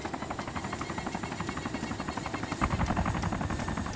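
Helicopter in the DayZ Origins video game, a steady chopping rotor drone with dense rhythmic pulsing that holds throughout and grows slightly louder toward the end.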